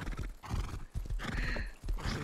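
Several horses in the Rust survival game whinny and neigh while hooves clop in a steady, fairly close rhythm, the sounds overlapping throughout with no talk.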